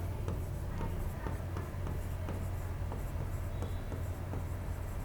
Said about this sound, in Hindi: मैं लिख देता हूं यहां